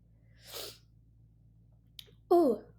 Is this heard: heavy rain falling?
no